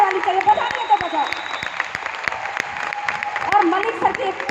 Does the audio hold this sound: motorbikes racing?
no